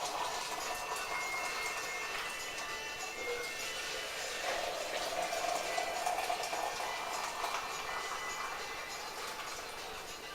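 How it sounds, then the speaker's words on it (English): Boiling water is poured into malt extract cans, giving a continuous gurgling, hissing wash that rises slightly midway and then carries on steadily, with no voices over it. "So in the cans now with the boiling water."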